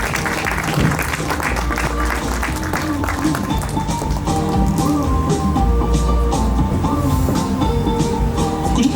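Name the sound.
audience applause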